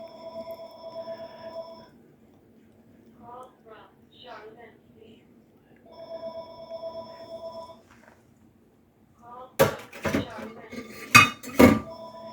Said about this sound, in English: And of course my phone's going to ring.